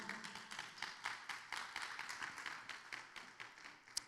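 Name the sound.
congregation clapping for the Lord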